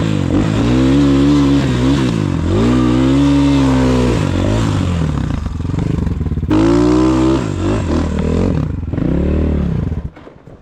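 A Rottor Bronx 300 enduro motorcycle engine revs hard up close, its loud pitch swinging up and down in repeated surges before cutting off abruptly at the end.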